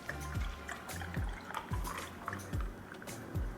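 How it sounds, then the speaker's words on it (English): Cinnamon milk poured over ice in a glass, a close, soft liquid trickle with several repeated drip-like gurgles and faint clinks of ice, no voices. "So now I'm gonna pour it over ice"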